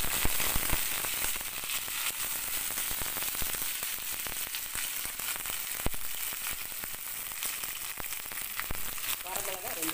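Mustard seeds and curry leaves spluttering in hot oil, a dense steady crackle and sizzle with sharp pops scattered throughout, close and continuous.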